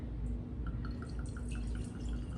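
Homemade vanilla extract poured into a small bottle makes a steady, faint liquid trickle with light, regular dripping plinks, and no voices are heard.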